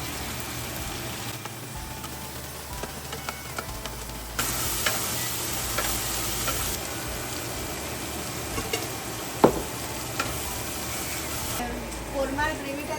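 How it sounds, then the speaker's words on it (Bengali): Fried potatoes being stirred into a korma gravy in a pan, with a steady sizzle and scraping of the spoon, louder in the middle stretch, and a sharp clink near the end. "ভাজা আলুগুলো দিয়ে দেবো, যাতে একটু মশলাটা ঢুকে যায়।"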